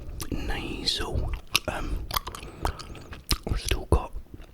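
Gum chewing right at the microphone, wet smacking and sticky clicks in an irregular rhythm, very close and intimate, mixed with soft breathy whispering.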